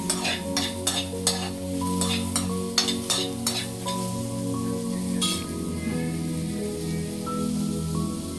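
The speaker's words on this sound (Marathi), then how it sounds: "आता हे सगळं सर्वप्रथम व्यवस्थित भाजून घेऊया।" Whole spices such as shahi jeera, cardamom, black cardamom and star anise roast in a pan for mutton curry, with close crackling sizzles and a series of sharp scraping stirs against the pan over a steady background hum.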